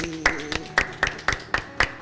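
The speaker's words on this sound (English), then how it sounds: "Give her a clap." Wedding guests clap in a steady rhythm for the bride, about eight sharp, evenly spaced claps over two seconds, close and distinct above a faint background hum.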